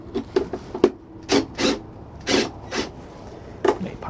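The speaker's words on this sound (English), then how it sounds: "we'll shoot 2 self-tapping screws down into our metal sheet" Self-tapping screws driven into a metal sheet to hold a catch for a locking baggage lock actuator in an enclosed trailer, heard as a series of short, close grinding and creaking bursts from a powered driver, some brief and clustered, with pauses between.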